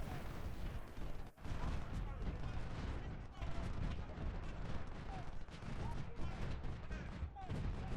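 Artillery booms and massed gunfire fill a Civil War video game battle at Fredericksburg, a dense, continuous roar of cannon blasts and rattling musketry with repeated heavy thumps.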